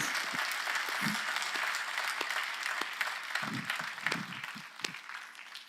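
A church congregation breaks into applause during a Korean sermon, a continuous patter of many hands clapping at moderate volume, with scattered louder claps and a few brief low thumps mixed in.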